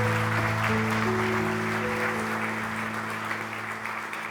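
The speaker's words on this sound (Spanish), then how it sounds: "Dale un fuerte aplauso a todas las mamis de este lugar." At a church service, a gathered audience applauds the mothers present with a broad, steady wash of clapping that slowly fades, while a sustained musical tone plays underneath.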